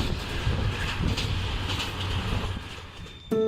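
Cartoon sound effect of a train running on rails, a steady rumbling clatter with rhythmic rail noise that ends abruptly in a brief tonal sound.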